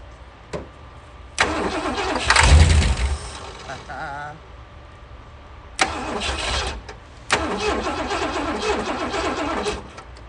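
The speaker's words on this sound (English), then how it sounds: "the fact that she fired using starter fluid, that's a very good sign" A 1967 Lincoln engine cranks on the starter and fires up on starter fluid in loud bursts, catching and running rough for a few seconds, then cranking and firing again, each attempt dying away.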